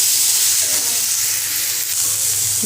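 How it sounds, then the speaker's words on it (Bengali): Potato pieces for a chicken curry fry in hot oil, giving a steady close sizzle and hiss with faint stirring, unbroken throughout, with no voices. "এখানে যে মাংসের আলুগুলো এখন তেলে ভাজা করছি"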